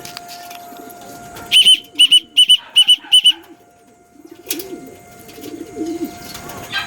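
Racing pigeon arriving at its loft, five clear, close cooing or whistling calls in quick succession over a low steady hum, then quieter rustling and distant background sounds.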